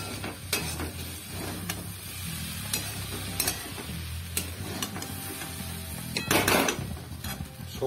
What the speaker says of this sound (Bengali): আবার নেড়ে দেবো।